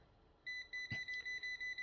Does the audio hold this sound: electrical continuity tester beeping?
yes